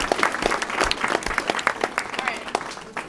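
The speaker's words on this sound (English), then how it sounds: "Let's give another round of applause for our coaches quickly." A banquet room applauds the team's coaches, a dense patter of many hands clapping steadily for about three seconds at moderate loudness, with faint background voices mixed in.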